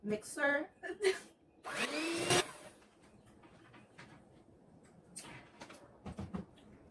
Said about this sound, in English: I'm going on at 1 and 2 again. This, I feel like, it's a very strong mixer.